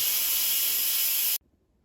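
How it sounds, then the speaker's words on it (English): An Instant Pot vents steam in a quick pressure release, a loud, steady, hissing rush that cuts off abruptly into near silence. "so let's quick release the steam."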